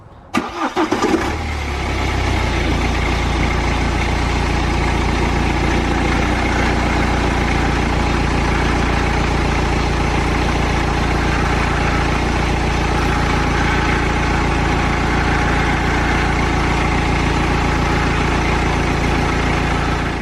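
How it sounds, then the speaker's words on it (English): A BMW car engine cranks and starts, then settles into a loud, steady idle that runs unbroken for the rest of the recording. "once we turn the engine on, the power steering pump will be active"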